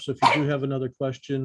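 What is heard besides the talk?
dog barking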